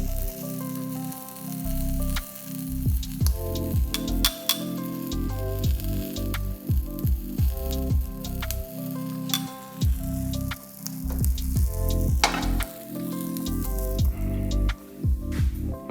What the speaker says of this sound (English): put them in the pan, and it'll quickly crisp up